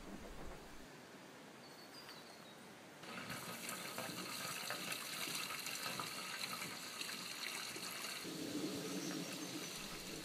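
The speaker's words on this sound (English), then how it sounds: "The kitchen sink waste comes out of the white pipe and goes into the tub." Kitchen sink waste water pouring out of a white pipe into a tub at an off-grid container home, a quiet continuous trickle and splash that grows fuller partway through, with no talking.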